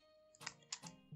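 A few quick keystrokes on a computer keyboard come in two short clusters, faint and close, with no talking.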